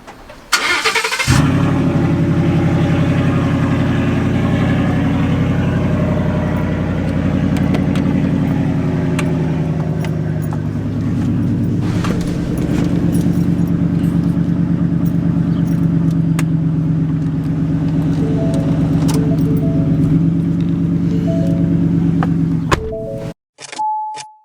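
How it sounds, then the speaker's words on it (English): A Ford F-150 pickup engine started from partly cold, a quick crank catching into a steady, loud idle that runs for about twenty seconds before shutting off, with a faint jingle near the start. "Let's get somewhat of a cold start because I already started the truck earlier,"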